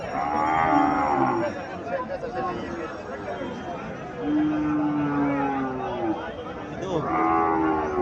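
A desi cow and her calf low in a few drawn-out moos at a rural cattle market, heard over a steady background of voices and chatter.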